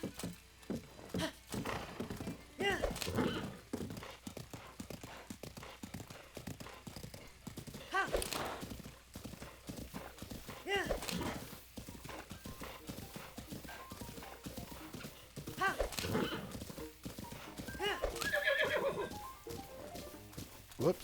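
A horse gallops in the video game The Legend of Zelda: Breath of the Wild, its hooves beating in rapid, rhythmic clip-clop bursts across a bridge, with occasional whinnies. A voice talks quietly over it at times.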